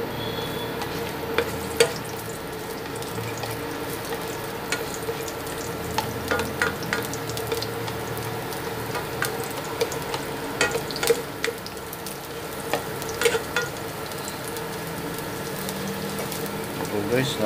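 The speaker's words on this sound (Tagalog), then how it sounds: "napakabango po ng sibuyas bawang habang ginigisa po natin." Onion and garlic sauté in a hot pan, making a continuous close sizzle with occasional sharper crackles and spatula scrapes throughout.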